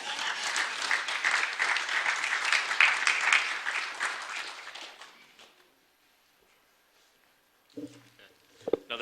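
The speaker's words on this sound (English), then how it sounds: "Another round of applause for our Nutley Grand Marshal deputies" Crowd applause for the Nutley St. Patrick's Day Parade Grand Marshal deputies at a county celebration, sustained clapping for about five seconds that fades to near silence, followed by a few brief knocks and shuffles.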